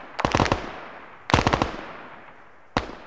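Bursts of blank gunfire during a Vietnam-era military training field exercise, three rapid rattling volleys of automatic fire close by with short echoing tails, the last burst cut short.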